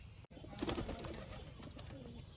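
A pigeon gives a low, soft coo close by, steady over a faint background hum.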